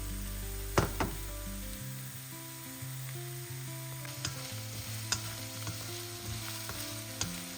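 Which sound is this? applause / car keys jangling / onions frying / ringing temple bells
onions frying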